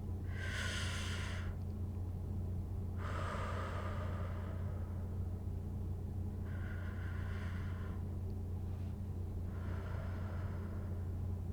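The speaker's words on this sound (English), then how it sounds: "breathing out, letting the belly fall." Slow, deep breaths during a diaphragmatic breathing exercise, four long airy exhalations and inhalations at a steady pace, close to the microphone over a constant low background hum.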